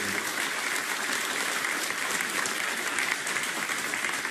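Audience at a CNN televised town hall with Paul Ryan applauding, a dense, steady clapping that holds at an even level throughout, with no voices over it.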